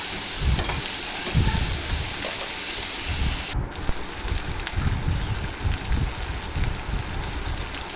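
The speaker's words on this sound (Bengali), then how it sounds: "বেশিক্ষণ ভাজবো না হালকা একটু নাড়াচাড়া করে আমি আলুটা ভাজবো" Potatoes frying in a pan as they are stirred, a constant close, loud sizzle with soft scraping strokes now and then.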